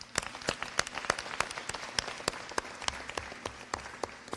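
Scattered hand claps from a small audience at an outdoor Saturday night community program, a thin burst of sharp individual claps at a steady moderate distance with no talking.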